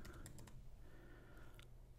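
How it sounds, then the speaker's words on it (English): A URL is typed on a computer keyboard as a quick run of faint, close key clicks, then a short pause and a couple more taps. "type in my URL bar"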